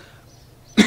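One short, sharp cough close to the microphone, a sudden burst after near silence at the end of the moment.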